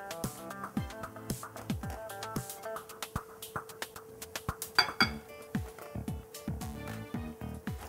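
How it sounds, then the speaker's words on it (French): A utensil stirs melted chocolate and butter into cake batter in a bowl, making a rhythmic series of close clinks and scrapes over soft background music. "On mélange à nouveau."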